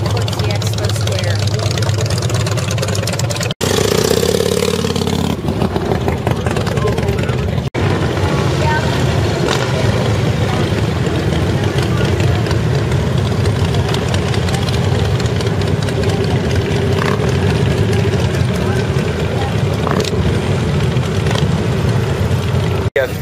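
Motorcycle engines idle in a steady low rumble at the Tulsa Toy Run motorcycle rally, a dense, loud drone that runs throughout with a few bursts of revving and no pauses.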